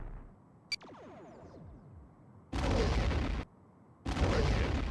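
Starship torpedo launches and hits in the Star Trek: The Next Generation A Final Unity video game: a rising sci-fi whoosh, then two loud sustained roaring blasts separated by a brief pause.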